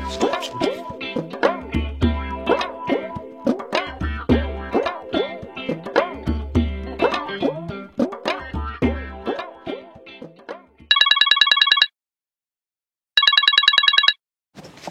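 After about eleven seconds of plucky, bouncing music, a telephone rings in two loud, trilling electronic bursts separated by a short silence.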